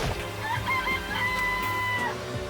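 Chicken clucking and crowing from the video game Danganronpa: Trigger Happy Havoc, a steady run of high, warbling fowl calls over continuous background game music, clear and close throughout.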